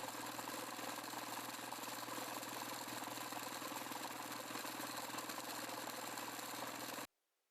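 A small electric motor drives a kinetic-theory model shaking a table tennis ball, a steady buzzing, rattling whir that runs evenly and stops abruptly near the end.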